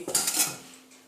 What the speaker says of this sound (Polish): Do 4-litrowego garnka wkładam ćwiartki,